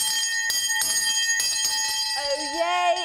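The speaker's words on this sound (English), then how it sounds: "I ring the bell" Town crier's hand bell rung in a few sharp, bright strikes, ringing out clearly and decaying before a voice begins to call out.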